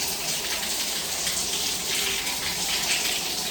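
Shower water pours steadily over gear being rinsed, a constant close hiss and splash of flowing water with no voices.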